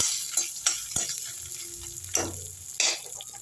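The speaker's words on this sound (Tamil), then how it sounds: "கறி மசால் பட்டை முந்திரி பருப்பு காஞ்ச மிளகா இது எல்லாத்தையும் லைட்டாக ட்ரை ரோஸ்ட் பண்ணிப்போம்" Spices, cashews and dried chillies dry roasting in a pan, stirred in a few quick scraping strokes with light rattles and a soft sizzle, close and quiet, no talking.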